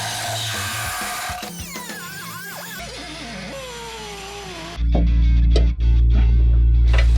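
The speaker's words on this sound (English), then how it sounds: "cut the inside of the body panel using a straight edge to transfer the line to the inside of the body panel" A power tool cuts the inside of a car body panel to fit an insert: squealing, wavering whines at first, then a loud, sustained harsh buzz with one brief break.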